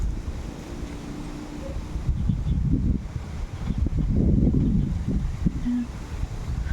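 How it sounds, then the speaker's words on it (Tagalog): Strong wind by the Camiling River buffeting the microphone in low, rumbling gusts that swell and ease, with a faint watery wash in the background and no talking. "Ang lakas na ng hangin guys."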